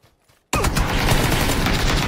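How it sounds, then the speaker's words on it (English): Dense, continuous gunfire from a Fortnite gun bursts in loudly after half a second of near silence and keeps rattling without a break to the end. "And he lands, and I'm putting bullets in him."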